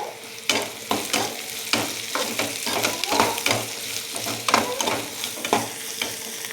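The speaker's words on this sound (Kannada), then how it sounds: "ಈಗ ಇದು ಬ್ರೌನ್ ಕಲರ್ ಆಗೋ ಗಂಟ ಫ್ರೈ ಮಾಡ್ಕೊಳ್ಳೋಣ." Ingredients fry in a pan toward browning with a constant sizzle. Brisk, rhythmic stirring scrapes and taps sound close by with no voices.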